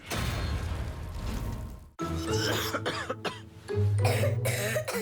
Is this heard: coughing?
yes